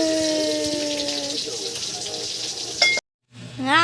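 Fish frying in a pan gives a steady, close sizzle and crackle of hot oil. Faint voices sound underneath, and the sound briefly cuts out near the end.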